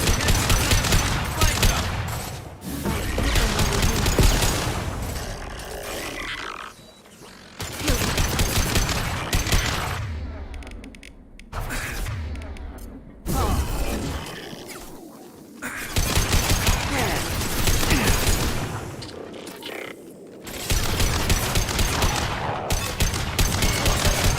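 Sustained gunfire in the video game Mass Effect 2, dense bursts of rapid automatic shots in long stretches broken by brief pauses, loud and close throughout.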